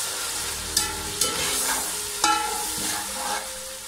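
Ginger, garlic and green chili paste frying in hot oil for fish pulao, a steady sizzle with a few sharp clinks of a spoon stirring against the pot, close and fairly loud throughout.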